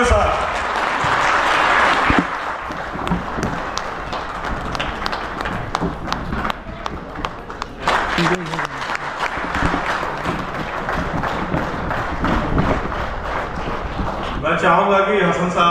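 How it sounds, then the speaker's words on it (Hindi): Enthusiastic audience applause as a guest is welcomed at a gathering, loud and sustained dense clapping with cheering and background music, then voices begin talking near the end. "जोरदार तालियों के साथ।"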